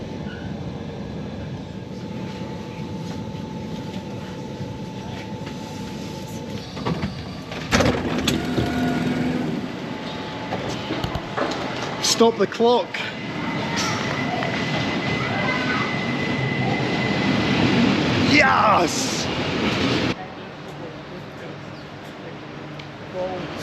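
A train runs without stopping toward Villeneuve after Montreux, its steady rumble and wheel clatter rising and falling for a long stretch, with wheel squeals midway and a brief excited voice over the noise.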